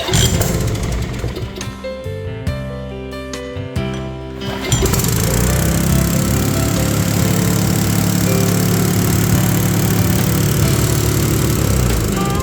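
A repaired Briggs & Stratton 6.5 HP small engine is pull-started: a few sputtering strokes give way to a loud, steady close-up running drone that holds to the end.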